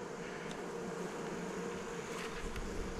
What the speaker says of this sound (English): docile bees so far